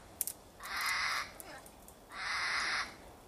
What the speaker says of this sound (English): The bird in the back is Rico. Rico wants attention